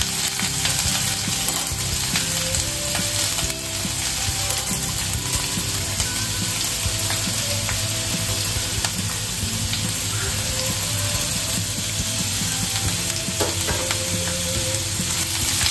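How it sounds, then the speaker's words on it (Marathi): Finely chopped onion and a bay leaf fry in hot oil for a chicken masala, giving a loud, steady, close sizzle that runs the whole time with occasional stirring and no talking. "बारीक चिरलेला कांदा टाकून द्यायचा"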